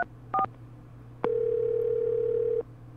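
A telephone in the Clock Tower 2 video game gives two brief dialing beeps, then a long steady dial tone lasting over a second before cutting off, over a faint low hum with no talk.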